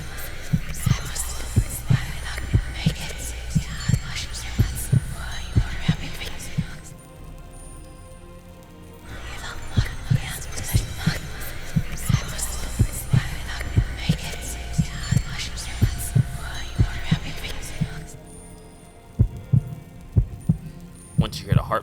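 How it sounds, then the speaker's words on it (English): Slow, deep heartbeat thumps from a resurrection spell in the video game Skyrim pulse steadily under a low hum and eerie whispering ambience, pausing briefly twice before resuming. "Once you hear the heartbeats again,"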